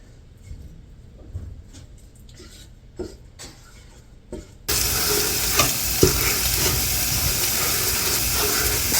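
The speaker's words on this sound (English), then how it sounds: "you can hear my sausage is sizzling" Quiet clinking and stirring, then a loud, continuous crackling sizzle of sausage frying in a pan takes over and persists, close up.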